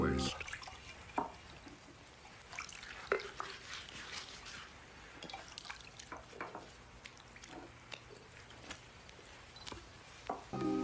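Water is poured into a vessel for washing feet, heard as faint, irregular drips and small splashes scattered over a quiet background.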